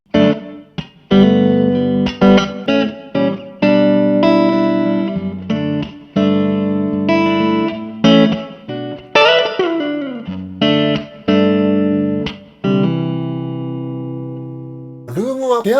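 An electric guitar played through a Limetone Audio moonlight reverb pedal, clean picked notes and chords with short breaks between phrases, some tails ringing out with spacious reverb, ending on a brief squeal.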